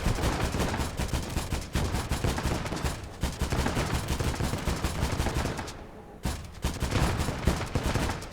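Sustained gunfire during a street fight in the Conquest of Normandy video game: dense, loud bursts of machine-gun and rifle shots roll on continuously, with one brief lull near the end before the firing resumes.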